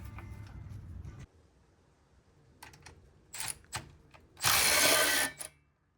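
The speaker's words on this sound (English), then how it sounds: "I still have to take the rear ABS sensor off, and that's an 8mm bolt under there." A ratchet works on the 8mm bolt of a rear ABS sensor on a Jeep Wrangler JK rear axle, giving short bursts of close metallic clicking and then a louder rasping run of rapid clicks before stopping.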